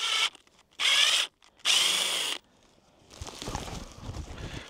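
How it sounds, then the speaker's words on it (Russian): A cordless screwdriver whirs loudly in three short bursts to open a package of honeysuckle seedlings, followed by quieter rustling and handling of the packaging. "Надо пойти взять шуруповерт"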